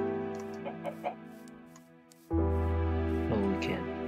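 Several short clucks from a chicken in a game setting, with steady tonal background music and a sudden louder musical swell midway.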